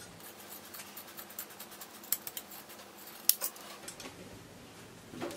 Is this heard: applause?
no